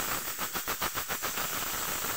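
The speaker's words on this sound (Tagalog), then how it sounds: "Hayaan lang natin kumukulo-kulo." Pot of soup with green chili boiling uncovered on a stove, a steady hissing, bubbling simmer with faint rhythmic rattling pulses, fairly quiet and alone with no voices.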